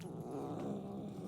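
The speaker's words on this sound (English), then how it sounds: "Don't upset the kitty." A cat growls in the video game Murdered: Soul Suspect, a low, rough, throaty rumble held as one faint, brief sound with no talk over it.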